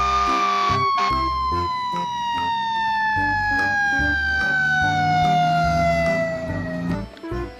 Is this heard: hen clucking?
no